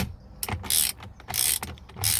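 Ratchet with a 24mm socket tightening the steering wheel nut on a Dodge Dart, a few quick close clicking strokes in a short burst.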